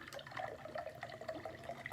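Water poured in a thin, soft trickle, a quiet continuous splashing and gurgling stream heard briefly and close.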